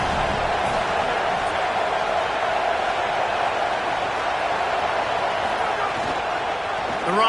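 Home stadium crowd roaring in a college football video game, a steady broad wash of cheering noise throughout with no break.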